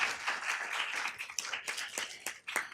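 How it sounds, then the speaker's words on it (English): Audience applause at a city council meeting honouring a high school dance director, a fairly quiet, continuous spatter of many hands clapping with a few louder individual claps standing out. "Give her a big round of applause."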